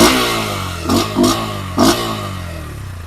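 A Bajaj Pulsar N125 motorcycle engine idles steadily, then is revved three times in quick bursts, each rising and falling back to a low rumble, close by.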